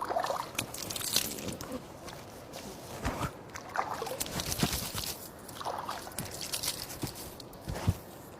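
Water splashing and sloshing in irregular bursts, like hands scooping water onto a face, close and moderately loud with small crunchy handling noises.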